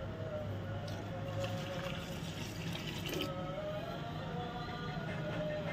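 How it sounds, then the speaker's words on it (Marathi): Water is poured steadily onto soaked jowar flour in a container, a continuous liquid splash and trickle heard close up with no talking. "पिठाच्या थोडंसं वरती पाणी घातलं तरी चालते"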